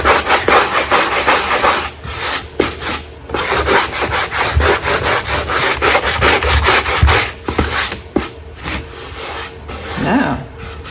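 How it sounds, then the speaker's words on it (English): Sandpaper rubs over a painted surface to wear the top coat and reveal pink beneath, in fast, loud, rhythmic back-and-forth strokes right up close with brief pauses between passes. "just a little bit of sanding"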